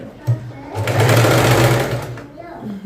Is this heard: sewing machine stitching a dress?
yes